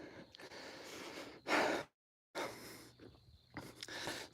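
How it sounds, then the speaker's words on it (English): A person walking up a very steep hill breathes hard, with close, heavy panting and gasping breaths in uneven bursts and a short gap of silence between them. "you're gonna hear me start panting like crazy"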